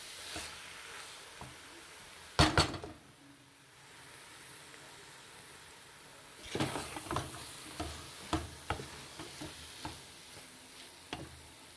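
Gajar ka halwa made with chopped carrots being stirred in a pot, soft scraping and faint sizzling of oil with a few sharp clinks of the spoon, steady and quiet with no talking.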